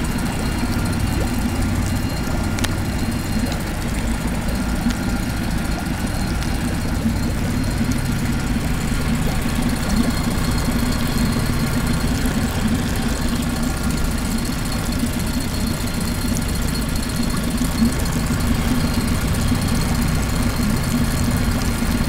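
A small electric-start engine that was laid on its side idles steadily for the whole stretch, giving a constant low, rumbling drone with no talk.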